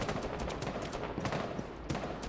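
Tachanka's mounted turret fires a long, dense burst of rapid machine-gun shots in a Rainbow Six Siege match, loud and unbroken throughout.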